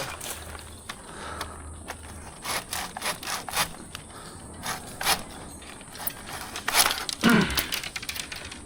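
Hand saw cutting through a tree branch during pruning work outdoors, a steady rasping back-and-forth stroke that grows louder and more rapid toward the end, with no one talking over it.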